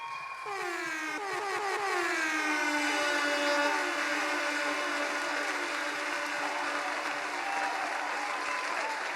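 Sustained applause fills the room at a Democratic National Alliance candidate launch in Antigua and Barbuda, a dense, even wash of clapping that holds steady with no talking over it.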